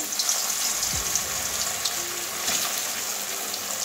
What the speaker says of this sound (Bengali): তেল গরম হয়ে গেছে, এবারে কচুগুলো একটু ভেজে নেব